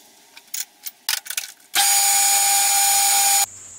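A metal lathe with an ER40 collet chuck cuts a 4BA thread on a piston rod for a Stuart Turner No. 8 mill engine: a few short taps and clicks, then a loud, steady, high-pitched machining whine for nearly two seconds before it stops.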